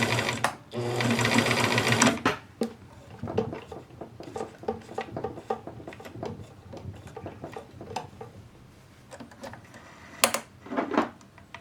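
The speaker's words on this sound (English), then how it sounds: "turn this around and sew down the edge here and see how it looks" A Bernina Record 830 sewing machine running a straight stitch down a fabric edge: a loud steady whirring burst at the start, then rapid ticking clicks and short mechanical runs, close up with no talking.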